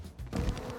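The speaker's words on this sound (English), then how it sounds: "Bees. I hate bees." Honeybees kept at the Warner Edwards Distillery buzz close by in a short burst, a steady droning hum that swells partway through, with no talking.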